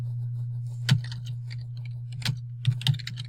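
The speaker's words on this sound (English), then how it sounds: "This is typing." Typing on a computer keyboard, quiet scattered key clicks with a few sharper strikes over a constant low hum, irregular rhythm, close and without speech.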